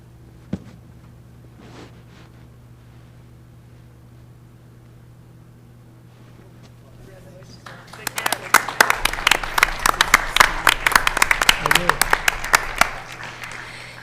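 Audience applause breaks out at a school board meeting, a dense burst of many hands clapping that swells suddenly after a quiet stretch with faint talk and continues steadily to the end.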